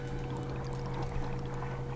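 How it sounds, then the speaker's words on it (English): Boiling water pours and gurgles through pipes to an infuser in the Wanderstop video game, a steady, continuous watery flow at moderate level with a faint sustained hum beneath. "scurries over to the infuser."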